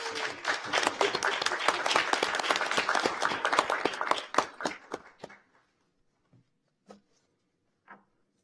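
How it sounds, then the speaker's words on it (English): Audience clapping at a school board meeting, a dense round of applause for several seconds that thins out and stops, leaving a few faint scattered sounds afterward. "we'll give them a round of applause"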